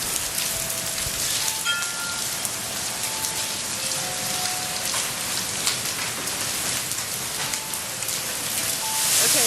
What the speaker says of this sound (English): We have ice falling to the ground in Hawaii.